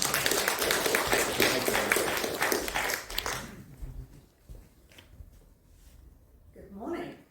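A round of applause welcomes Maddie from ANCAD to speak in a church, dense clapping for about three seconds that then cuts off, leaving a quiet room with a few scattered sounds and a voice near the end.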